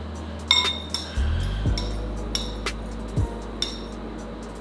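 A small metal fork clinks against a dish while seasoning is mixed for baked chicken, giving a handful of sharp, close taps spaced irregularly over a low background hum.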